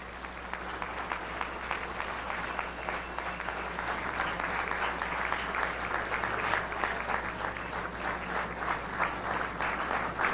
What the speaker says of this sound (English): let us give a warm round of applause for our brother, Brother Kwame Toure